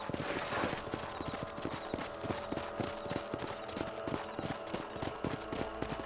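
Horse hooves gallop in a quick, steady clip-clop rhythm in the video game Red Dead Redemption on PS5, the beats sharp and evenly spaced over several seconds against a low outdoor background.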